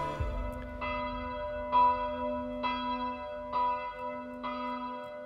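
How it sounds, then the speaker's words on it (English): Church bells ring out in a slow, even sequence of resonant strikes, each tone hanging and overlapping the next over a low sustained hum. "hearing church bells when they ring"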